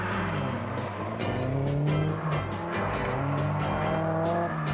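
Classic first-generation Mini Cooper with 63 horsepower driven on a narrow mountain road, its engine droning steadily and loud throughout, with rising and falling revs and rhythmic bursts of noise.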